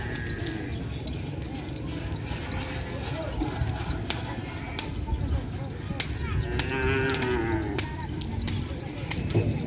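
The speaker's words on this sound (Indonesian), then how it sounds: "Ini ada sapi besar." Cattle gathered in a village field give several low moos amid a steady open-air din of crowd noise and birdsong, with faint voices in the background.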